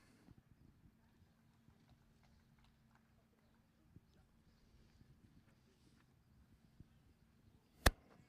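A horse trots at an outdoor stable inspection, its hooves giving faint, sparse clip-clops over a quiet background, ending with one sharp, loud knock near the end.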